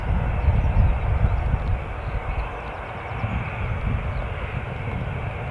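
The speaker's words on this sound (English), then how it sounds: "that's British Airways A320 on finals from London Heathrow" A British Airways A320 on final approach at Newcastle airport gives a continuous broad engine roar with low rumble. It is strongest early on, then settles to a steady drone.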